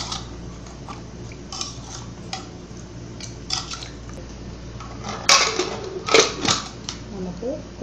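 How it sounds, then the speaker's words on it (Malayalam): Beef stirred together with spices and a little water inside a pressure cooker, a spoon clinking and scraping against the metal pot in several close, sharp knocks, loudest toward the end, over a steady low hum. "ശേഷം നന്നായിട്ട് ഒന്ന് മിക്സ് ചെയ്ത് കൊടുക്കാം"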